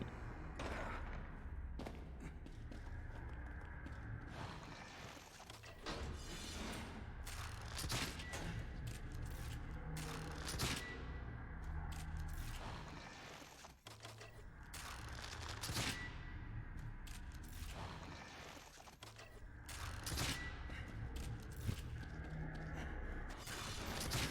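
Repeated gunshots from The Evil Within ring out over a dense, noisy game soundtrack, sharp reports breaking through a continuous rumbling mix of impacts and ambience for the whole stretch.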